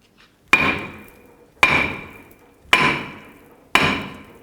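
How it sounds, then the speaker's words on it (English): A hammer strikes a stuck front brake rotor on a 2001-2007 Toyota Highlander four times, each sharp metallic clang ringing and fading before the next, evenly spaced about a second apart. "Now I'm going to take my hammer and just hammer on it anywhere on the surface"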